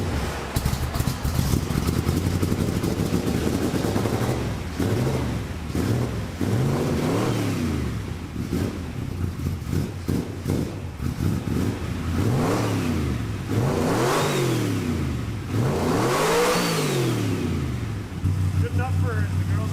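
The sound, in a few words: 1975 Chevrolet Stingray engine starting and revving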